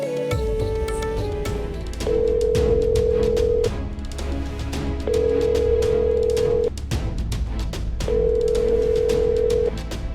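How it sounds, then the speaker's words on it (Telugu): An outgoing phone call rings unanswered, with the ringback tone repeating three times in even bursts over faint background sound. "ఫోన్ లిఫ్ట్ చేయట్లేదండి."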